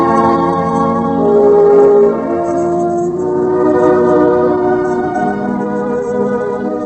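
A train sound effect from a radio drama adaptation of Main Street: a steady rolling rumble with a sustained horn-like tone that swells early and holds, continuing for about seven seconds with no talking.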